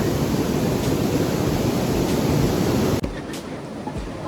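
Dense, loud rain pours and drums steadily on a roof, a continuous roaring hiss that drops slightly near the end.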